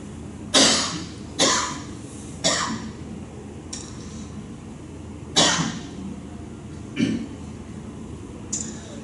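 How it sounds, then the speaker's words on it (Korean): A preacher at a Sunday young adults' church service coughs repeatedly from a chronic dry cough, about seven sharp separate bursts spaced irregularly across the clip, close and fairly loud against a quiet room. "제가 마른 기침이라는 고질병이 생겼어요."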